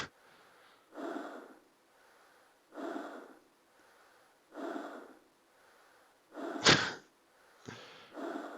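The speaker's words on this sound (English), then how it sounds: "Not a fan of the breathing noise when you're in the backseat." Heavy rhythmic breathing in a point-and-click horror game set aboard a ship, slow hoarse inhales and exhales repeating about every two seconds, followed by a couple of sharp sudden effects near the end.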